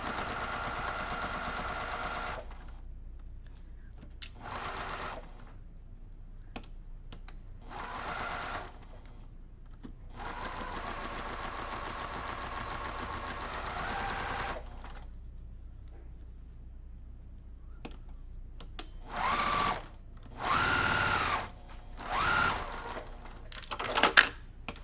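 Domestic sewing machine stitching quilt block fabric, running in several bursts of steady close whirring of varying length separated by quiet pauses, with a few short clicks and no speech.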